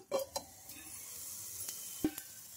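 Oats batter dosa frying in a pan gives a soft, steady sizzle, broken by a few light clinks and taps of a utensil against the pan.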